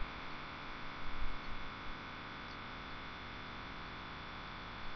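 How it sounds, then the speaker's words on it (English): A Smart Motor Devices motor, driven from an MT6071iE HMI panel, rotating steadily with a faint, even hum and hiss that stays level throughout, with no voices. "The motor rotates."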